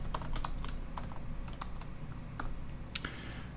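Light tapping on a computer keyboard while coding a Ruby on Rails app, quiet and close, with irregular clusters of keystrokes and one sharper clack near the end.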